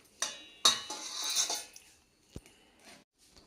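A kadai pan set down on a kitchen stove, a sharp metallic clank followed by a ringing scrape and a few lighter knocks, close and fairly quiet, no talking.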